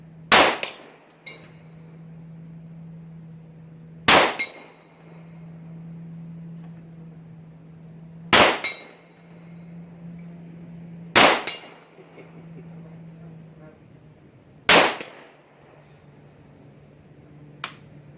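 Five sharp metallic clangs of .45 ACP bullets from an Aero Survival Rifle hitting a steel target ring out at irregular intervals of a few seconds each, with a steady low hum underneath and faint distant pops between.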